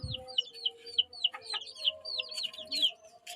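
Desi chickens and chicks cluck and chirp repeatedly in quick bursts on a small backyard poultry farm, with a rooster among them, fairly close and with no talking.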